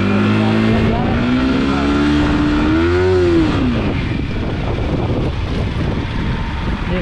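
A Yamaha R15M motorcycle with damaged clutch plates revs hard in first gear, the engine pitch climbing and wavering before settling into a steady rough drone. The engine is loud and close.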